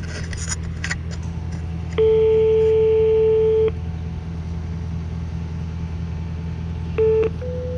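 An intercom doorbell rings at a delivery entrance: a long electronic tone of almost two seconds, then a short second tone, heard clearly over a steady idling engine rumble.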